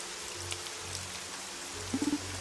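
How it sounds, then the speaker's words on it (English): Steady rain in the game Evoland II, a constant hiss of drops on a surface with faint low tones underneath, continuous and fairly loud. "the rain is really loud for some reason, even though I have my sound turned down"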